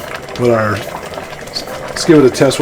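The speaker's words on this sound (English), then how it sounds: "Still got this on boil. And what I'm doing, we're boiling out all the excess liquid." A pot of black-eyed peas with a turkey leg boils on the stove, a close, bubbling burble running under a person's speaking voice.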